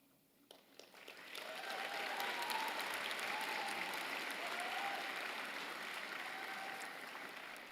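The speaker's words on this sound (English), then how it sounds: "A round of applause for all our award winners." A convocation hall full of people breaks into steady applause for award winners that swells quickly and holds, dense clapping with a few whoops rising over it.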